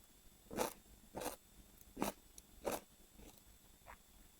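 Close, crisp crunches of a spicy marinated pickled cucumber being bitten and chewed, four loud ones spaced apart, then softer bites, with no talking.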